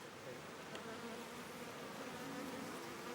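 Honey bees at beehives in Panjshir, Afghanistan, buzz in a dense, steady drone, many insects humming together close by without any talking.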